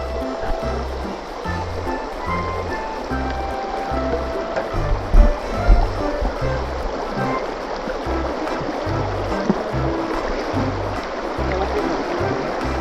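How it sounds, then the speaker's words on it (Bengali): Water flows over slippery rocks in the Remakri canal stream in Bandarban, a continuous close rushing and gurgling that stays loud and steady, with small splashy swells. "এটা হচ্ছে রেমাক্রি খাল।"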